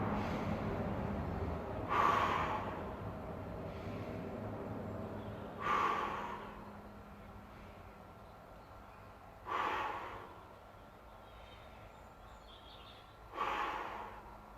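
A person doing mat Pilates takes breaths in quiet surroundings, four distinct audible inhale-exhale bursts spaced a few seconds apart with silence between them.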